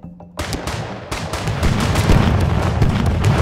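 Dense, continuous bursts of explosions and gunfire-like blasts from a Super Smash Bros. fight, building in loudness and staying steady to the end with no voices.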